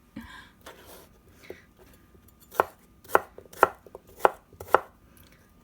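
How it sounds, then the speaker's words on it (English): Knife chopping avocado into bite-sized pieces on a cutting board for a corn salad, a few soft cuts followed by five sharp evenly spaced chops, close and clear. "Cut these into bite-sized pieces."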